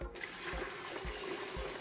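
Water poured into a container of ice while making iced coffee agua fresca, a quiet, steady running-liquid sound with faint low thumps repeating under it.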